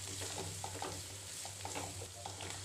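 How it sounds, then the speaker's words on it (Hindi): Washed bitter gourd peels frying in hot oil with crackled cumin, a steady soft sizzle running throughout with light scraping stirs of a utensil popping up now and then. "जो हमने ये छिलकों को वॉश करा है उसको डालेंगे। इन्हें हमें 3 से 4 मिनट के लिए"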